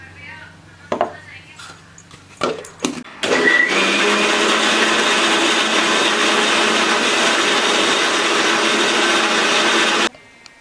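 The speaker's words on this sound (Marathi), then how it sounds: "पाणी घालून आता हे मिक्सरला फिरवूया आपण" A mixer grinder blends beetroot with water, whirring loudly and steadily for several seconds after a few clinks and knocks, then cutting off abruptly.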